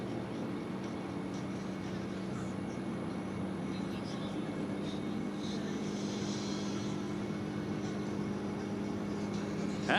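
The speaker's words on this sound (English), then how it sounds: "Jim Pites and that beautiful aerobatic Bonanza" An aerobatic Beechcraft Bonanza at the Reno air races drones steadily in the distance, a continuous moderate engine tone under faint crowd and wind noise.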